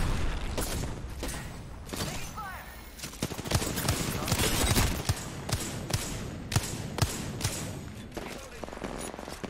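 Gunfire rattles in rapid bursts of sharp cracks over a heavy blast in Apex Legends, with a player talking over the combat.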